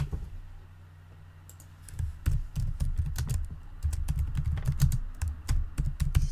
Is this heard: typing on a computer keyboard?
yes